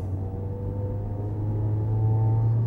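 A Ford Focus engine with a drivability fault runs at wide open throttle, a steady loud low drone and rumble that holds constant and builds slightly toward the end, with no talking.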